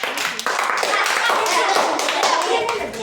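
Classroom applause for competition finalists, a dense burst of many children clapping together, close and sustained for a few seconds, with voices mixed in.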